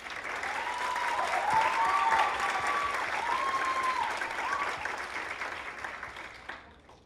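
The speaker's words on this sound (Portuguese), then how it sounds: "Então, palmas para o Thiago de novo, por favor." A large audience at an entrepreneurship talk applauds Thiago, a dense, sustained wash of clapping with a few faint whistles or cheers riding on top, swelling early and then tapering off near the end.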